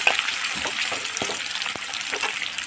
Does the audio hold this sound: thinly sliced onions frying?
yes